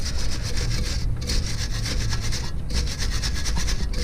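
Steady back-and-forth scrubbing on rear drum brake parts of a 1964 Ford Thunderbird, a continuous rasping rub with brief pauses, close and fairly loud, with no talking.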